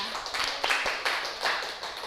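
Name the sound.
clapping for Mbak Aflah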